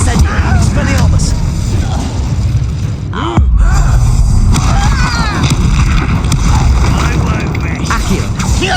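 Spell blasts such as Incendio and Confringo fired in Hogwarts Legacy combat, a continuous loud mix of bursts, whooshes and explosive booms with brief gaps.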